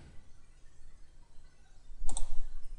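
A few quick, close mouse clicks land near the end of a quiet stretch while sketching in Autodesk Inventor 2015, a short burst of sharp taps after near silence.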